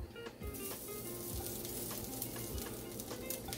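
Six cashews sizzling and frying in a pan while cooking chicken salna, a steady close crackle with occasional stirring clicks.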